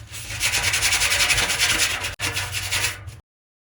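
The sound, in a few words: deburring rough pipe edges for cold plunge plumbing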